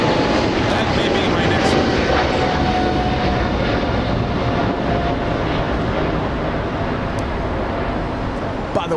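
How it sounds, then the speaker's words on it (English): Boeing 777 freighter departing LAX for Shanghai, its jet engines producing a loud, steady broadband roar that holds for the whole stretch, with a voice talking over it. "big freighter coming in. Well, heading out, I should say, flying to Shanghai"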